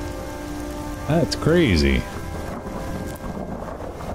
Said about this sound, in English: Uh-oh. Thunderstorm.